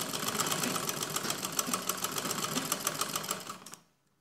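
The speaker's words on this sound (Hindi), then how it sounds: "अभी सिर्फ ऐसे ही सिलाई लगाएंगे इसके किनारे से" Sewing machine stitching along the edge of a heart-shaped blouse neck design, a steady rapid mechanical clatter running evenly up close for nearly four seconds before stopping abruptly.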